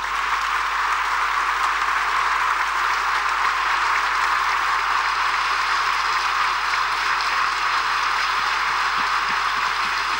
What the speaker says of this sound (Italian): Signori, accogliamolo con un grandissimo applauso, Giulietta Masina.